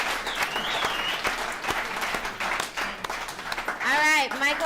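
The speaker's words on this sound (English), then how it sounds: "Let's give Caesar another round of applause." An audience at an alumni recovery-services meeting claps in a steady round of applause, with a voice speaking over it and a brief whistle-like tonal sound near the end.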